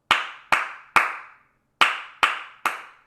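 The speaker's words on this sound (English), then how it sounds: "So right now I'm clapping, I'm going to clap at this tempo." A single person claps a rhythm by hand during a violin masterclass: three sharp, close claps evenly spaced, a short pause, then three more at the same steady tempo, each ringing briefly in a quiet room.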